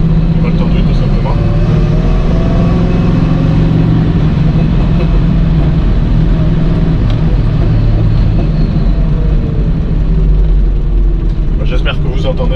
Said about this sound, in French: j'ai un sifflement quand j'accélère au-dessus des 2000 tours minute